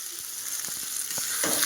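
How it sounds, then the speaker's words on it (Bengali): Potatoes and pointed gourd frying in a spiced masala, a steady close sizzle with a few scraping stirs, growing a little louder toward the end. "এটার সঙ্গে আবার ভাজতে থাকবো"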